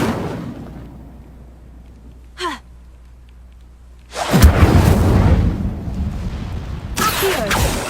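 A fire spell cast in the video game Hogwarts Legacy erupts in a loud, roaring whoosh of flame that sustains for several seconds, then flares again, after a brief rising whistle and otherwise quiet surroundings.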